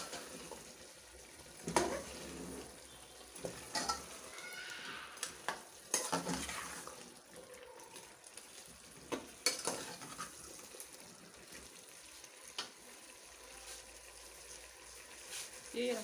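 Cut potatoes fry in a pan at home while being stirred. A soft sizzle runs underneath, broken by scattered scrapes and clinks of a utensil against the pan, with faint background voices.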